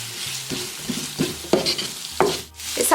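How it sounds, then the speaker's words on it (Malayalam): Onions being sautéed in a pan for a paneer butter masala, a steady close sizzle broken by repeated stirring scrapes at a loose, uneven rhythm, with no one talking. "സവാള ഇങ്ങനെ നന്നായിട്ട് വഴറ്റി ബ്രൗൺ കളർ ആക്കിയൊന്നും വേണ്ട"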